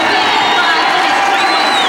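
A large crowd at a high school state wrestling championship in a big arena cheers and whoops for a sophomore champion, a dense, steady roar of voices and shouts filling the whole two seconds.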